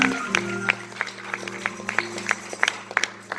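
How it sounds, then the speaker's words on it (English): A church congregation claps hands during a Sunday worship service, individual claps standing out in a loose rhythm over a sustained organ-like tone, with a voice faintly present beneath. "Let's clap your hands for Jesus"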